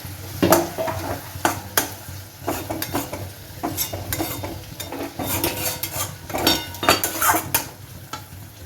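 Prawns go into a hot pan for Bengali chingri posto and are stirred, with clattering utensil scrapes and knocks over an uneven sizzle, close and free of speech.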